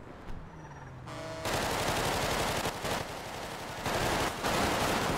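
A machine gun fires continuously in GTA 5 roleplay, a dense loud stream of rapid shots after a brief quieter lead-in, with slight pulsing in the volume.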